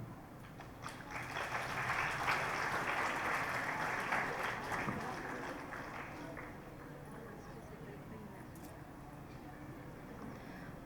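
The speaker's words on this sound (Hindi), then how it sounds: "जोरदार तालियों से स्वागत होना चाहिए बेटा" Sustained applause fills a college hall as a trust secretary is welcomed at an Independence Day cultural programme, swelling early then easing to a steady, softer clatter of many hands that carries on to the end.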